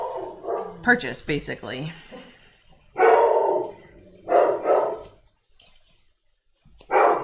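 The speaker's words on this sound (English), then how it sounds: "sorry for the barking" A dog barks a few times in short bursts, loud and nearby, while a person talks over it.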